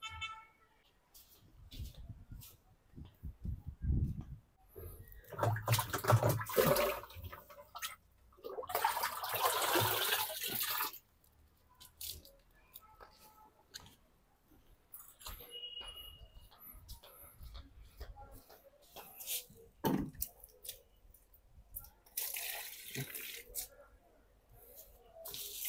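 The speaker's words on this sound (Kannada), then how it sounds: "ಸ್ವಲ್ಪ ನೀರು ಹಾಕಿಬಿಡೋಣ ಅವಕ್ಕೆ." Water is poured onto freshly potted plants in bursts, a gushing splash that comes and goes between quieter pauses, with faint background sounds and occasional rustles.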